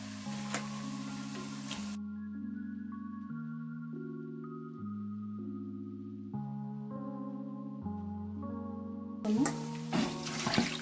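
Water is poured noisily into a cooking pot at the start and again at the end, with a steady tonal melody playing in between.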